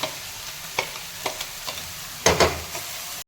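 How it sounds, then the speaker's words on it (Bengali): Chopped onion, green chilli and garlic sizzle in hot oil in a pan, a soft steady frying hiss with a few spoon stirs and scrapes, close and alone without speech. "তেলের মধ্যে পেঁয়াজ, কাঁচা লঙ্কা আর রসুন কুচিয়ে এর মধ্যে দিয়ে দিলাম তেলে।"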